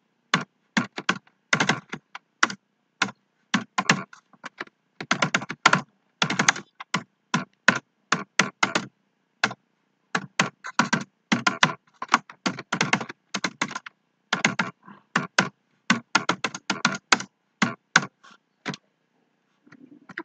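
Quick bursts of computer keyboard typing while C++ code for a bucket sort program is entered, close and crisp, with irregular runs of keystrokes broken by short pauses and no voice.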